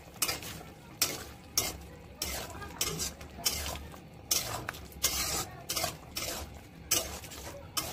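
A spatula stirs cumin paste into bitter gourd and potato curry frying in a pan, giving close, rhythmic scrapes and clinks against the metal over a steady low sizzle, with no talking.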